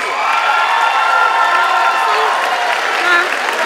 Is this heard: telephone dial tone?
no